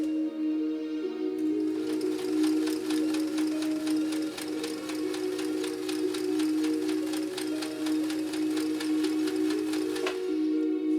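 A Kenmore sewing machine runs steadily through a three-point zigzag stitch, its needle clattering in a fast, even rhythm for about nine seconds after a brief start-up hum, loud and close with no talking.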